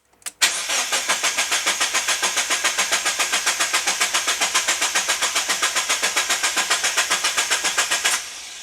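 A Mazda Miata engine cranks on the starter with the coils disconnected to prime the oil, a long, even rapid chugging that never catches, close and loud, then stops.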